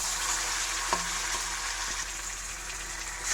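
Nigella seeds fry in oil in a pan with a faint, even sizzle, as a Bengali dish of taro and hilsa fish head is cooked. A couple of soft clicks break the crackle.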